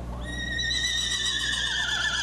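A miniature horse, a small breed no taller than 34 inches at the withers, gives one long, loud, shrill whinny that wavers and trails off. It is close and heard alone, with steady low background noise.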